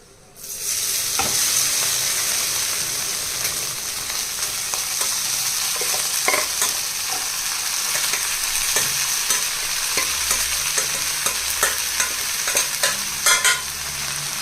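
Steady sizzling of vegetables frying in a hot pan, with occasional clinks and scrapes of stirring over the constant crackle.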